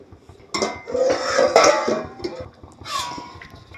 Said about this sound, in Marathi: इथे दहा मिनटं झाली आहे तर आपण झाकण उघडून बघूया